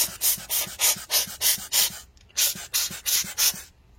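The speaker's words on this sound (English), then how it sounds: "I'm going to use this air blower to kind of help a little bit" An air blower puffs dust out of a computer fan in rapid short bursts, about a dozen sharp hissing blasts in two quick runs with a brief gap, close and loud, with no talking.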